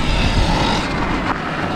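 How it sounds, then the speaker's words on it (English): Motor of a Sur Ron electric motorbike running on a KO MOTO controller sputters loudly and close for a brief moment, a rough, uneven drone with a short dip near the end. "My motor sounds weird right now, guys. Sputtering."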